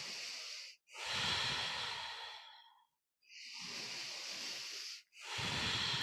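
Deep belly breaths during a yoga backbend, three long slow airy exhalations and inhalations with short silent pauses between, close and fairly quiet with no talking.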